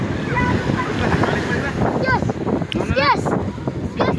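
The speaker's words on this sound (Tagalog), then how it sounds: "Ayan, malakas po yung alon ng dagat" Strong sea waves wash onto a beach in steady broadband surf roar with wind buffeting, while family members talk and call out over the noise throughout.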